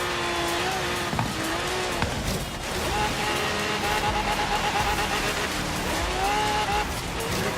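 Race car engine sound from the Forza Horizon 3 video game, a class D barn-find car racing against S1-class cars, with a continuous loud engine drone and shifting revs, tire squeal and brief skids, with faint voices underneath.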